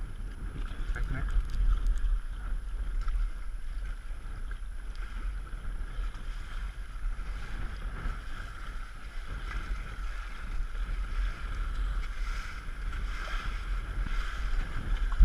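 A sailboat glides along off Cancun with steady wind rush buffeting the microphone and low water noise, a continuous outdoor roar with faint voices now and then.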